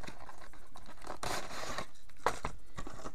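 Crinkling and tearing of Beyblade Burst toy packaging being opened with scissors, with a few sharp rustling bursts and snips close by.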